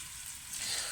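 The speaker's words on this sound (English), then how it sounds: "we're just going to take our corn-floured onions and pop them into sizzle." Corn-floured onions drop into hot shimmering oil in a small pan and sizzle with a brief, faint crackling hiss that swells slightly at the end.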